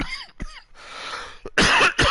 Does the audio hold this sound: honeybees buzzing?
no